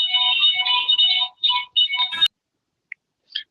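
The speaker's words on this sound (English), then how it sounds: "scam phone call." A bright electronic phone ringtone from an incoming scam call trills in repeated warbling bursts for about two seconds, then stops abruptly, leaving near silence with a couple of tiny faint blips.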